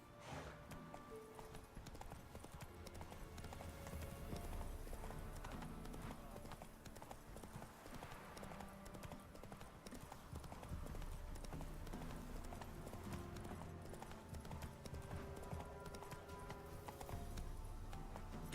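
Galloping horse hooves in The Witcher 3, a steady rhythmic clip-clop running the whole time alongside game music and ambience, with someone talking now and then.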